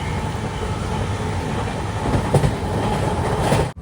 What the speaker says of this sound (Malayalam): ട്രെയിൻ ഇപ്പം നെല്ലൂരിലേക്ക് എത്തുകയാണ്